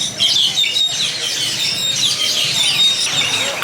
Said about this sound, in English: You come in here, there's birds everywhere.